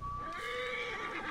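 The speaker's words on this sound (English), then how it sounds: "This horse." Horse whinnying in Assassin's Creed Origins, a single clear, shrill neigh lasting over a second with a few faint hoof clops at the start, loud and close with no talk.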